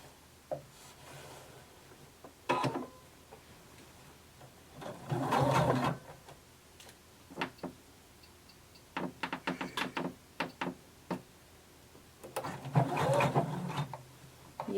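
A sewing machine stitches a seam at a 5/8 inch allowance, starting and stopping in short, separate bursts with quiet handling between them.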